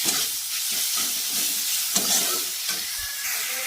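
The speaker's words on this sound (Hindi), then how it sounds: "उनको सभी को 2 मिनट के लिए भून ले रही हूँ" Mixed vegetables frying in a pan for a vegetable biryani made with leftover rice: a steady, close hiss of sizzling oil with soft scraping strokes of stirring throughout, no voices.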